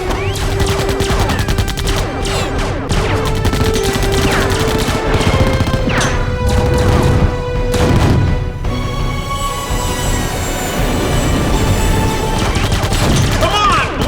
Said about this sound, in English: There's gonna be a lot of explosions coming off.